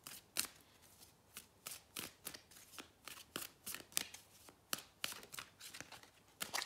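Tarot cards are shuffled and dealt during a reading, a quick run of crisp riffling flicks and slaps at an uneven rhythm, close by and with no voice.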